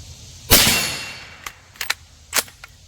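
A single loud gunshot from a Bear Creek 300 Blackout bolt-action pistol, a sharp crack with a decaying tail, followed by a few lighter clicks and clacks of handling.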